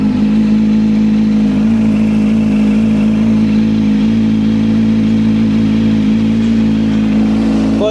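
A Kawasaki Z900 motorcycle engine running steadily after a cold start, with a strong, continuous low rumble and slight rises in revs throughout, close and loud with no talking.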